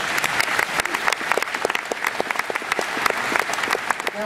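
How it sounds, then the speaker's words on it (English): Live theatre audience at a gadget show giving a big round of applause as guests come up on stage, dense clapping with sharp individual claps standing out, loud and sustained throughout. "give them both a big round of applause as they follow me up on stage"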